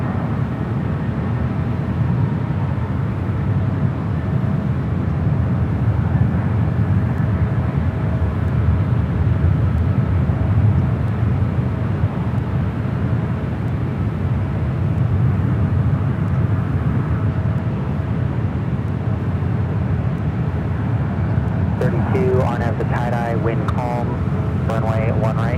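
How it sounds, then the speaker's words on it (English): A JetBlue Airbus A321 from JFK touching down on runway 28 right at San Francisco airport gives a continuous low rumbling roar, with speech near the end. "The flight coming in from JFK, the JetBlue A321, touching down 28 right."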